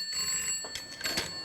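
On a radio culinary hotline, a telephone rings for an incoming call, with a short burst of ringing tones heard alone and close.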